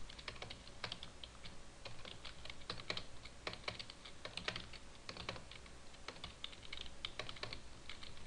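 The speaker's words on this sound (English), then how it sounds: "All I can hear is really loud clicking from my end." Rapid computer keyboard typing with loud, sharp key clicks comes in irregular bursts, close to the mic and fairly quiet overall, with no talking.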